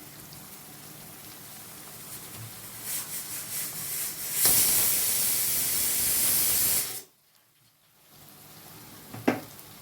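Chicken frying in a pan, a loud steady sizzling hiss swelling in the middle, then dropping out abruptly to near silence before a brief clatter.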